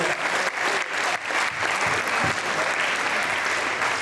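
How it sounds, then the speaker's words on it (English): Warm, sustained applause from a crowd of spectators honours a young Cub Cadets tennis team at the National Tennis Centre, dense clapping that holds steady for the full few seconds with little else heard. "Another round of applause for our Cub Cadets team."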